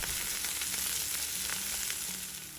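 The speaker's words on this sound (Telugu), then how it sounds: "మధ్య మధ్యలో తిప్పుకుంటూ కాకరకాయని బాగా వేగనివ్వండి" Bitter gourd pieces sizzle steadily in a hot pan, a dense continuous frying hiss with no voices over it.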